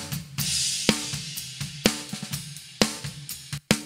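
Snare drum hits through a Black Salt Audio Silencer gate, struck about eight times in an uneven rhythm, each crack close and sharp, with ringing body and bleed between hits partly cut away.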